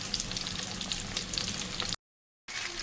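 Fish fries in a pan of hot oil in village-style cooking, a steady broadband sizzle that cuts to silence for a moment, then resumes.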